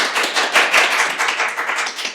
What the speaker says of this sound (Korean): 마지막 발표라서 그런지 더 뜨거운 박수를 해주셔서 감사드리고요